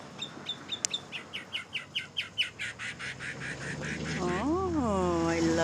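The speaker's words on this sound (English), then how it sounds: "Oh, I love these birds." Birds in a tree give a long series of evenly spaced, bright chirps, close and clear, which then turn into a swooping, warbling call toward the end.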